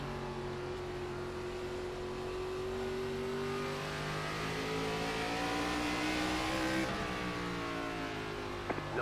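ARCA Series race car engines in the iRacing NASCAR game at Oswego Speedway, a steady loud droning engine note that slowly rises in pitch as the car accelerates, then briefly dips, with other cars faintly audible around it.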